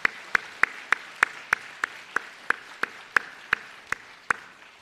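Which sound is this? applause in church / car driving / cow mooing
applause in church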